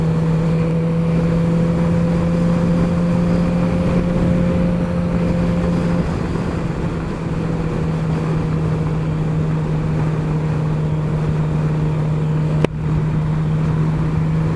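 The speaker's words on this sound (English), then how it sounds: "Mike's motorbike" Motorbike engine idling steadily nearby, a constant low hum with a sustained tone that dips slightly in pitch partway through, with a brief click near the end and no talk.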